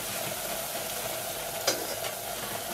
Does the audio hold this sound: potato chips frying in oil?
yes